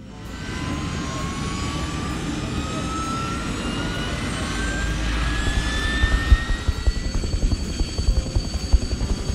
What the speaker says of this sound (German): Seid ihr gespannt, wohin der riesige Hubschrauber fliegt und welche Aufgabe er hat?